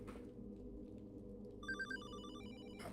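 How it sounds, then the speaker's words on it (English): A telephone rings inside the horror video game HollowBody, a bright electronic bell trill entering partway through over a low, droning ambient background, fairly near and clear with no talking. "Telephone's ringing."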